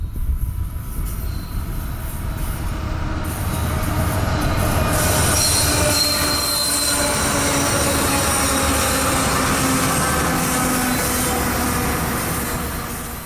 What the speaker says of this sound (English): EO20 empty coal hoppers out of Lakeland's McIntosh power plant, rolling down to a stop here at Wildwood.